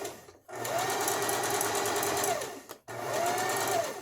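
Sewing machine stitching fabric in two runs, a fast steady mechanical whir with rhythmic needle clatter that slows and stops briefly between them, close and loud.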